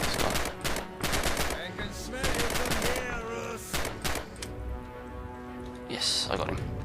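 Submachine gun fire in the World War II shooter Red Orchestra 2: Heroes of Stalingrad, rapid repeated bursts of shots loud and close, interleaved with spoken commentary.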